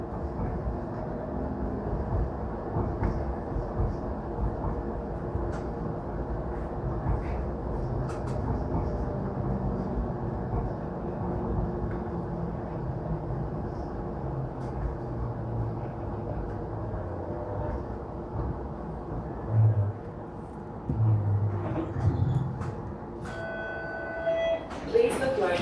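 A Toronto streetcar rides through downtown with a continuous low rumble of wheels and motor from inside the car, a few brief tonal chimes and bumps surfacing near the end.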